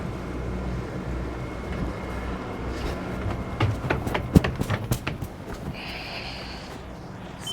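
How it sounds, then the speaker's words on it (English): A boat passing on the Chicago River, heard as a steady low engine rumble with water wash, with several sharp knocks and rattles in the middle and a faint higher tone near the end. "Boat coming out that way, so I'm going to wait for him."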